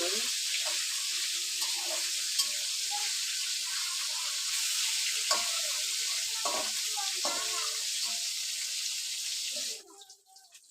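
Tilapia fish fry in oil, giving a steady, close hiss of sizzling with faint scraping and clinks mixed in, then the sound drops away abruptly just before the end.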